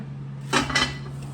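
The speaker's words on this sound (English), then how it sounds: "Place it right into the Dutch oven, and then you're gonna cover it again." A metal Dutch oven lid is set back on the pot after sourdough loaf is loaded, giving two quick clanks close by in a quiet kitchen.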